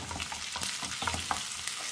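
Small red onions fry in oil with dried red chillies and curry leaves, a close crackling sizzle broken by repeated scraping stir strokes, with no one talking.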